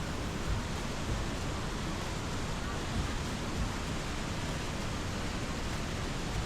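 The Rheinfall waterfall on the Rhine between Switzerland and Germany roars in a broad, constant rushing wash of water, loud and close, without a break.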